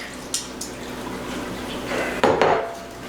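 Wet ingredients go into dry pancake batter made with whole wheat flour in a bowl, giving a few light clinks of a utensil and a short wet splat and scrape near the end, close and fairly quiet.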